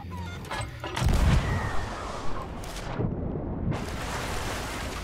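In the pirate video game Sea of Thieves, a player is launched from a ship's cannon at sea, with a heavy boom and rushing blast followed by a sustained roar of wind and waves and a second swell of noise.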